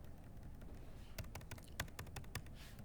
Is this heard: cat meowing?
no